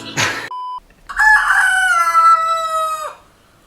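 A rooster crows loudly and close by, one long drawn-out call that rises and then holds before dropping off. It follows a short burst of noise and a brief electronic tone.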